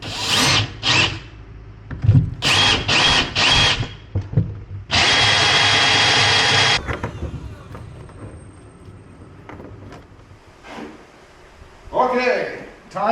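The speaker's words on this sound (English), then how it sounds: "I'll go through that hole right there with a 5/8 inch drill bit." A power drill with a 5/8 inch bit cuts through a hole during a tonneau cover install on a 2025 Toyota Tacoma, short bursts then a sustained loud whine, with talk in between.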